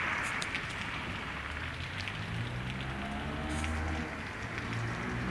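Steady heavy rain pours down in Umari, Ceará, a dense continuous hiss of drops drumming on surfaces and running water, with no voices.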